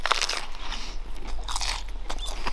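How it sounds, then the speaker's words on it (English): Crisp crunching bites into a lettuce wrap at a camp meal, several sharp crackly chomps up close followed by chewing, with no talking. "Listen to that crunch."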